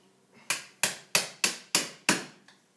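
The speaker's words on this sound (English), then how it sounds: "This is where our wood chisel and our hammer come in" A hammer strikes a wood chisel six times in a steady rhythm, prying drywall away beside a window. Each blow is a sharp, close crack, with a faint tap at the end.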